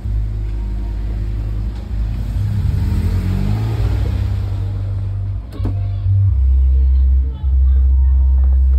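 A 250cc Yamaha NMAX scooter engine rumbles and revs loudly nearby, rising and dipping in pitch, with people talking over it.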